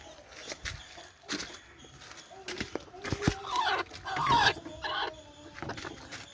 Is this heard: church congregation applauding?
no